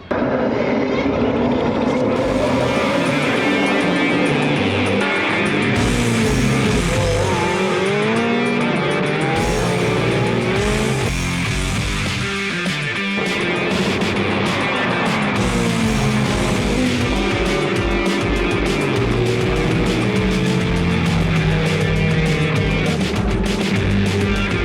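Ferrari Challenge race cars roar continuously at Monza, engines loud and close, with shifting pitch as cars pass and occasional tire squeal. No voices are heard.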